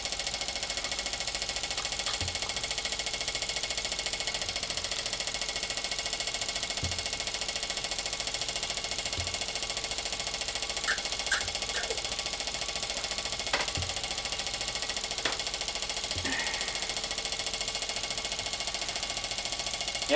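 Weeden Model 20 toy steam engine running, a rapid steady mechanical ticking and whirring with a faint hiss beneath, scattered small clicks and knocks across the run.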